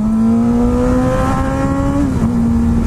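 A car drives close past with its engine revving hard in one steady, rising tone that dips near the end, loud and alone on a street.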